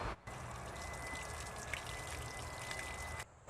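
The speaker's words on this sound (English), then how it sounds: "What I do now is I wash my hands because the Chalkbrood disease is contagious." A beekeeper washes his hands under running water after handling chalkbrood-diseased brood: a steady close splashing stream that starts and stops abruptly, with no talking.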